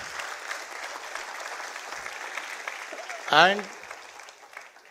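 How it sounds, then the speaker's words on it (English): An audience applauds graduating students at the NMIMS School of Commerce convocation, a steady distant clapping that continues while a voice briefly speaks over it. "Let me, on behalf of all of us present here, applaud the effort of students"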